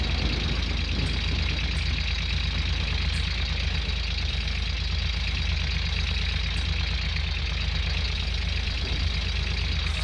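A tractor engine idles in the Gold Rush video game, producing a steady, unbroken mechanical drone with a low rumble that holds at an even level throughout, and no voices over it.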